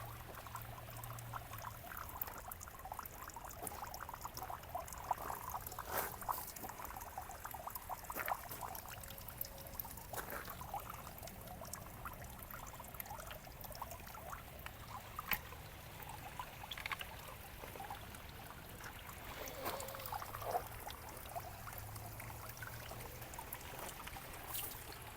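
Small backyard mini pond pump running as water trickles and pours steadily, quiet and continuous with no talking.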